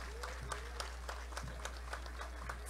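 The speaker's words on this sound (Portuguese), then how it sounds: "uma salva de palmas" Scattered, faint applause rises for a municipal early-childhood school group marching in a 7 September parade in Pomerode, with thin distant claps over a steady low electrical hum.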